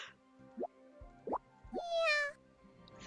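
A cat girl character in a video game gives several short voiced meows and one longer, drawn-out meow, a human voice imitating a cat, fairly quiet and close.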